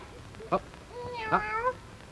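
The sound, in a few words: voice imitating a cat's meow for a little dog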